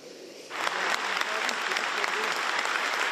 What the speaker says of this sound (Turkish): Bahçeli alkışlarla çıktı kürsüye